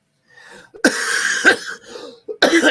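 Several harsh, close coughs in quick bursts, with a short pause before a final fit of coughing.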